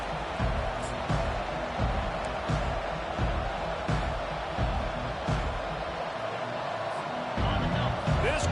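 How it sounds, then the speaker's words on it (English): A stadium crowd at a college football game, California Golden Bears at NC State Wolfpack, keeps up a dense, steady roar throughout while a commentator talks over it. "This crowd bringing the energy and noise early."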